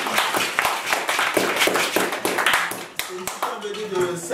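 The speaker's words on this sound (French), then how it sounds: "On applaudit le petit garçon qui vient de gagner." An audience claps for a little boy who has just won at a children's arts event, a dense run of hand claps with sharp individual slaps standing out near the front before it thins toward the end.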